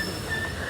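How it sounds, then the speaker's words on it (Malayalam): A train pulls into a station platform, a steady close rumble of wheels and carriage noise with a faint high squeal running through this brief moment. "അങ്ങനെ ട്രെയിൻ വന്നിരിക്കുക"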